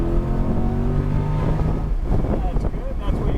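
2021 Corvette Z51 pulling away on a track, a steady engine drone that rises in pitch and then breaks into wind buffeting, with a person speaking over it.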